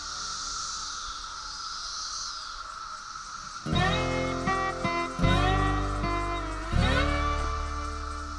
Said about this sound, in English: As you can hear in the background, the cicadas are really hammering.